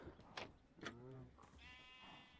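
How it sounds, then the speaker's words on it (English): Sheep bleating in the video game Minecraft VR, a couple of harmonic bleats in close succession, moderately loud over low game background noise. "I thought the Minecraft sheep were my sheep for a second."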